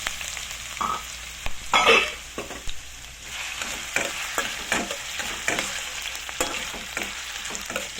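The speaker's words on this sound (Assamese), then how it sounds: "সৰিয়হখিনি ফুটাৰ লগে লগে মই আলুখিনি ফ্ৰাই কৰি ল'ম" Potatoes frying in hot oil with popping mustard seeds, a continuous close sizzle with irregular crackles, pops and stirring scrapes.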